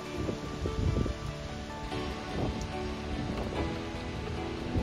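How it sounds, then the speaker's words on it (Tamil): Rain falls outdoors in London as a steady, broadband hiss with scattered pattering and rustling, moderately loud and continuous throughout, with no talking. "அப்படியே அங்கே மழை போய்கிட்டு இருக்கு."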